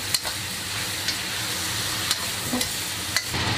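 Dried chilies, Sichuan peppercorns, scallion pieces and spices such as star anise being stir-fried with chicken in a wok, giving a continuous soft sizzle with a few sharp clinks of a spatula against the metal.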